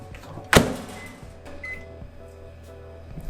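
A microwave oven heats frozen rice with a steady low electrical hum, opened by a sharp clack near the start and followed by faint mechanical clicks.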